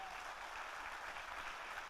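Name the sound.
audience applause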